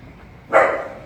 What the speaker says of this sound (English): that was Milo, our guard dog